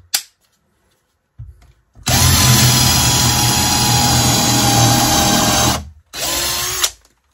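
A Teccpo PHD100D 18V cordless drill/driver set to speed 2 gives a brief start, then runs loud and steady for about four seconds while drilling, stops, and whirs again for a short burst, all close up.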